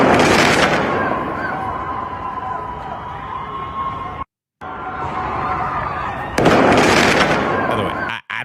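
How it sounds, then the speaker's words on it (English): Fireworks go off in Tehran as a loud, crackling wash of bursts and pops. The noise swells at the start and again near the end, with a brief silent gap in the middle. "Can I show you literal fireworks being shot off like it's the 4th of July in Tehran?"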